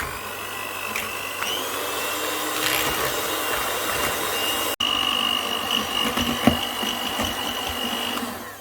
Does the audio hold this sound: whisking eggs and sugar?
yes